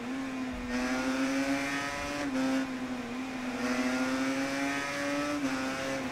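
Motorcycle engine in the Ride 3 racing video game, throttle opened hard out of corners: a steady, loud buzzing drone with slight pitch dips and short surges, heard alone with no voices.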